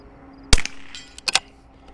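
A single sharp rifle shot cracks out loud and close, followed by fainter clicks and a short echo trailing off outdoors.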